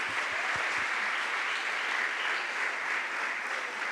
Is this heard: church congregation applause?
yes